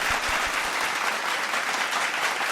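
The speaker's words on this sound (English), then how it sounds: "can we give Bokag a round of applause?" Dense, continuous clapping from a group fills the whole clip at a steady, loud level, with no voices standing out.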